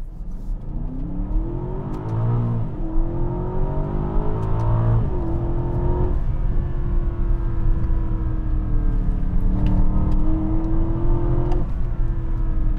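An Aston Martin DBX SUV accelerates hard in Sport Plus mode, its engine climbing loudly through the revs with quick drops at gear changes before pulling on, heard from inside the cabin with no talking.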